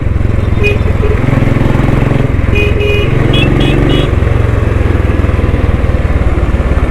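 A Royal Enfield Thunderbird motorcycle engine runs loud and close, a steady rapid thumping beat whose pitch shifts slightly as it is revved, with faint voices beneath.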